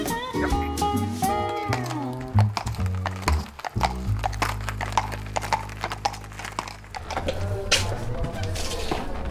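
Horse hooves clip-clopping on a hard surface as the animal pulls a chaise carriage at a driving competition, a steady close rhythm with an occasional whinny and a sustained low drone in the middle.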